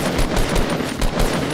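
Shotgun fire in Fortnite, several sharp blasts in quick succession at roughly regular intervals, fairly loud and with no talking.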